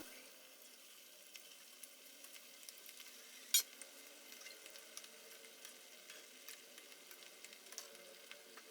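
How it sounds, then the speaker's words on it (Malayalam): Pieces of potato and rava snack batter sizzle in hot oil, a faint, steady crackle with a single sharp clink partway through and no voices. "നമുക്ക് ചൂടായ എണ്ണയിലേക്ക് ഓരോന്നോരോന്നായിട്ട് ഇട്ട് കൊടുക്കാം"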